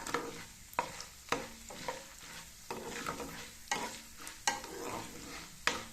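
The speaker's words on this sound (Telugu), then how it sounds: "ఆవాలు వేగనియాలి కొంచెం." Mustard seeds, urad dal and chana dal fry in peanut oil for a mango pickle tempering, sizzling steadily close up while a spoon scrapes the pan in repeated sharp stirring strokes.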